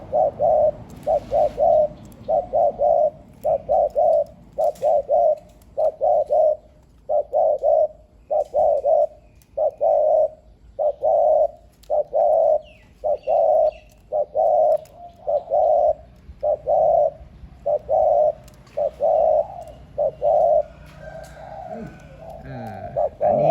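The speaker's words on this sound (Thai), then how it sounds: "มันเป็นนกคูยาวด้วยนะครับ" A tame decoy dove coos repeatedly in a steady rhythm with long coos, close and clear, the low hooting calls continuing for over twenty seconds with faint background noise.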